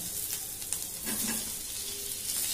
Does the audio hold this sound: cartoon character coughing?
no